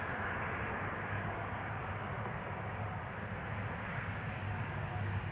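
A KLM Embraer 175 regional airliner arriving at Amsterdam Schiphol on a flight from Norwich, heard as a loud, steady jet-engine roar with a deep rumbling drone that holds through the whole stretch.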